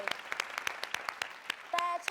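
Scattered clapping from a studio audience on a Thai television code-breaking game show greets a new champion, light, separate claps in a sparse rhythm, fairly quiet, with a host speaking alongside.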